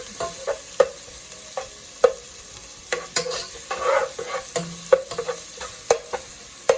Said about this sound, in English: 1 onion. Just get that a little brown. Turn up my fire a little bit.